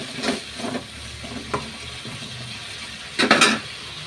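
Vegetables sizzling and sautéing in a pan, with a few scraping stirs and a brief louder burst of sizzle near the end.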